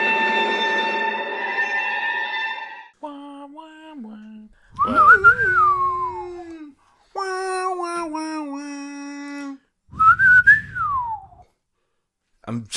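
A person whistles a melodic tune in sliding, warbling phrases, separated by short pauses, close and clear with no talking.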